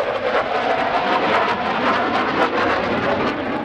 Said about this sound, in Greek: 12 μαχητικά αεροσκάφη F-15 Strike Eagle, τα F-16 Block 52 Plus της ελληνικής πολεμικής αεροπορίας